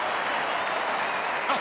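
Australian football stadium crowd at a Fremantle Dockers v GWS AFL match reacting to a kick, a sustained loud roar and murmur of the crowd swelling briefly at the end.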